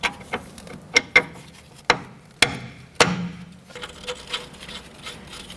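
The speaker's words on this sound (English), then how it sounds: "So now I'm just going to take my 14 millimeter socket, just bottom these out." A 14 millimeter socket tightens the front sway bar link nuts on a 2006-12 Toyota RAV4. Crisp metallic clicks and knocks come at uneven intervals, close and distinct, then a softer patter follows, with no talking.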